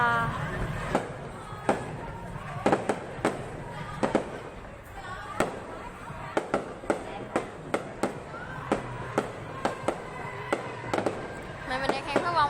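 New Year's Eve fireworks burst in a long run of sharp cracks and bangs, some clustered rapidly, others spaced apart, heard at middle distance while people talk nearby.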